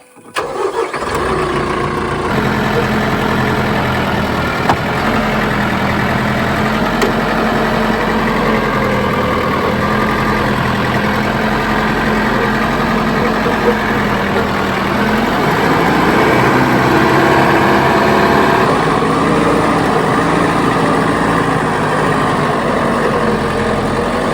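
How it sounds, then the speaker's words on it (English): A tractor engine cranks and catches, then settles into a loud, steady diesel idle that runs on close by. "I'm gonna fire the tractor up"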